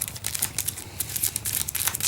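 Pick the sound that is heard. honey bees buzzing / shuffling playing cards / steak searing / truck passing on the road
shuffling playing cards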